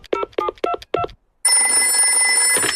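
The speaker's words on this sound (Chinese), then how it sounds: "我马上打个电话给棕熊医生" Cartoon telephone keypad tones: four short evenly spaced beeps, then a sustained ringing tone, loud and clear with no talk.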